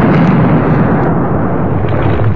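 Airstrikes called in by special operations teams pound Taliban forces in Afghanistan, heard as a loud, sustained low rumbling blast roar that fills the whole stretch without pause, with no voices.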